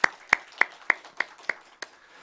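A church congregation claps in welcome for a newly registered member, seven crisp, evenly spaced hand claps that fade slightly toward the end, heard alone without talk.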